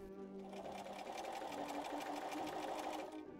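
A sewing machine stitches long skirt seams and bodice darts on a 1940s Vintage Vogue dress, running steadily with a fast, even whirring rhythm for several seconds, close and continuous, with no talk over it.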